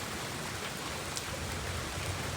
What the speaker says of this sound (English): Also getting a lot of rain at the new backyard pond.